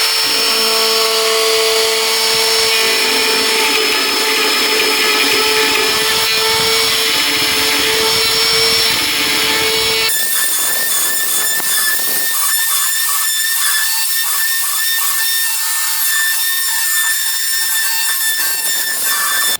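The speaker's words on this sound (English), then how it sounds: "get the base of the router nice and flat up against the door, and we want to cut this section out" A power router cuts a section out of a door, a loud continuous high whine that shifts pitch partway through as the bit bites into the wood, steady throughout with no talking.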